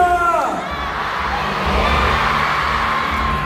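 A large crowd at a live fan event in Bataan shouts back a chant on cue, a loud sustained roar of voices that follows a leader's call.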